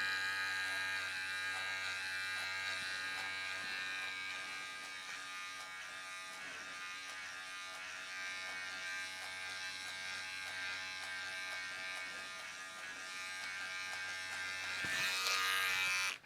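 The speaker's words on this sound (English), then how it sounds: "flip the clipper upside down and go with the direction that the hair grows in" Electric hair clipper held upside down while cutting hair during a low taper self cut, a steady close buzzing hum that runs continuously and shifts slightly in tone as the blade moves through hair.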